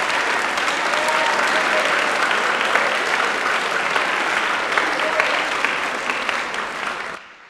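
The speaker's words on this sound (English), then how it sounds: "please hold the applause till I've read all the names" Sustained applause from an audience at a school academic awards ceremony, dense steady clapping filling the room for several seconds before trailing off at the end.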